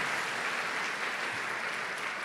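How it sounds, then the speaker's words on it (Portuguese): A church congregation applauding together, a dense, steady wash of clapping from many hands, continuous and fairly close throughout with no break. "Pode aplaudir Jesus, que é Ele que vai fazer tudo isso"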